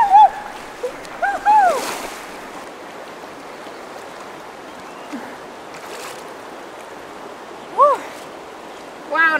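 Scattered splashes and sloshing water as a person wades into a river in the Canadian wilderness, with brief bursts of louder splashing between quieter flowing stretches, plus a few short birdlike chirps.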